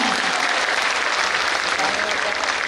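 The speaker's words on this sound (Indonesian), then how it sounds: "Tepuk tangan untuk kita semua." A huge audience of thousands applauds at a large speaking event, a loud, continuous wash of clapping that holds steady from start to finish.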